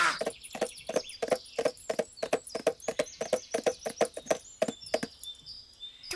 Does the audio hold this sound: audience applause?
no